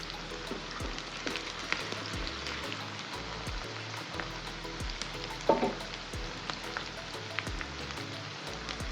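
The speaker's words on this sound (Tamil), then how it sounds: "வெங்காயம் கொஞ்சம் வதங்கட்டும்" Chopped small onions sauté in a pan for a Burmese-style fish dish, with a faint, steady crackling sizzle, scattered pops and one brief louder clatter midway.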